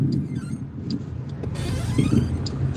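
Squeaking from another car's worn ball joints, short repeated high squeals over road and engine noise inside a moving car, with no talk.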